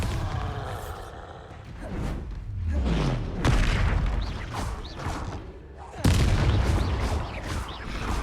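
Bombarda spell explosions in the Hogwarts Legacy video game, two loud booming blasts with rumbling tails, separated by a few seconds and set against game effects.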